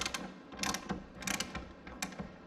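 A ratchet tightens the hood alignment bolts on an S550 Mustang, giving short, quiet bursts of rapid clicking in several strokes with brief pauses between them, close by and with no talk.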